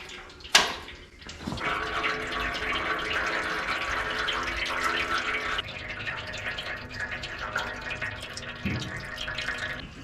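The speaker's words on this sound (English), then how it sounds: "I'm going to start off by draining out the antifreeze," Antifreeze coolant draining out of an engine, a steady trickling pour of liquid with a few sharp knocks and clanks near the start and a brief clunk later, no voices.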